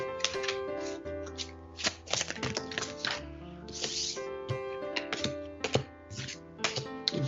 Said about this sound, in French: Je vais remélanger un peu, parce que c'est un nouveau jeu.